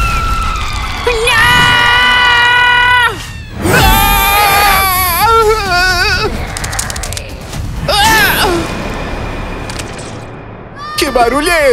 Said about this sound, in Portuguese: Que barulho é esse? Quem tá gritando aí?